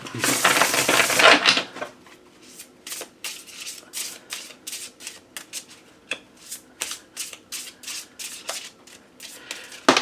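Tarot cards are riffled in a burst at the start, followed by a series of crisp, quick snapping flicks close by, with no voices.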